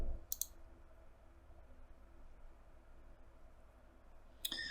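A computer mouse gives two sharp clicks, one near the start and another near the end, with quiet room tone between them.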